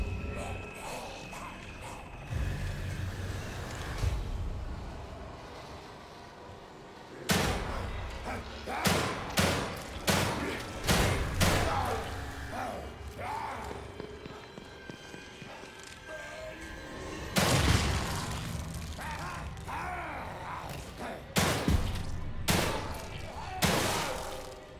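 Gunfire from a shotgun in the survival horror game The Evil Within 2, sharp loud shots in irregular bursts with thuds and impacts between, against a dark game ambience with a voice talking at times.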